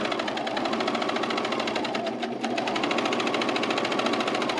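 A sewing machine stitches through a thick chino waistband, running as a fast, steady, close mechanical chatter with a brief dip midway before picking back up.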